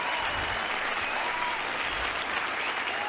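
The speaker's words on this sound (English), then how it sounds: "Big applause breaks." Strong, sustained applause from a live comedy audience, a dense and even burst of clapping that holds at full loudness from start to finish with no talking over it.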